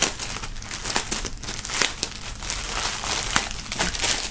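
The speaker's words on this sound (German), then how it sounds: "nachdem hier diverse Sachen noch in Folie sind, werden wir die hier mal befreien." Plastic foil wrap crinkles and tears as it is peeled off boxed music merchandise, a shirt and an album, with continuous close crackling and several sharper rips throughout.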